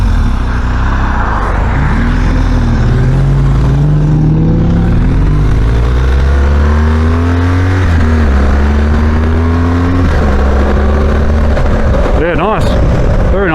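Large adventure motorcycle engine revving and shifting while riding, loud and close with wind roar throughout and rising, falling pitch sweeps as it accelerates through gears.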